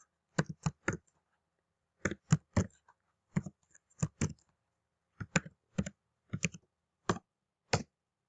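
Fingers tap out a username and password on a computer keyboard, close and quiet, in short bursts of quick clicks separated by brief pauses.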